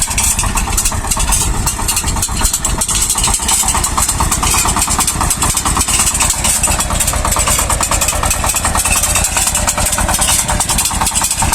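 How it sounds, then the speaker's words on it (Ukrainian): A SHIFENG SF-240 mini tractor engine runs steadily without load at a constant, loud, buzzing pitch for the whole stretch, with no pauses and no change in speed. "Трактор йде без нагрузки, взагалі нормально."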